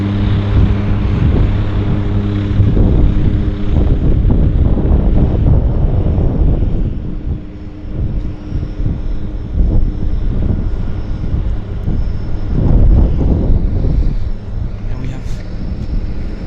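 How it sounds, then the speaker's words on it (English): A Turbo Beaver floatplane runs its engine at Vancouver's downtown harbour airport, a loud, steady propeller drone that swells and eases over the whole stretch, with voices talking over it. "There they go. Showtime. It's this Sierra Turbo Beaver."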